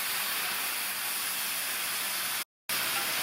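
Water is sprinkled onto vegetables sautéing in a pan for ragi semiya upma, producing a loud, steady steaming hiss that cuts out abruptly for a moment before resuming.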